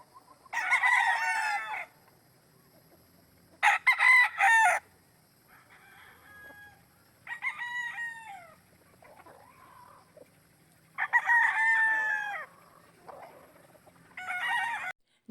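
Gamefowl stags at a game farm crow in several loud, close bursts, each a harmonic cock-a-doodle-doo, with short gaps and fainter clucks between calls.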